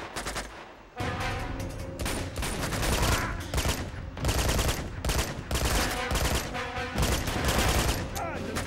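Sustained bursts of automatic gunfire and rapid shots from the Uncharted 2 video game, loud and dense for most of the stretch with brief gaps, a close firefight without talk.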